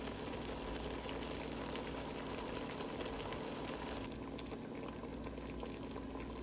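A pot of food boils steadily at a family barbecue, with a dense, continuous bubbling and simmering hiss that holds at an even level throughout.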